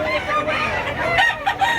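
Several gamefowl roosters cluck and crow close by, with short, overlapping calls filling a brief burst of farmyard noise and no voices.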